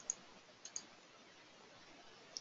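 A computer mouse clicks a few times, faint and sharp, with single and double clicks scattered over a quiet background while working in NX CAD software.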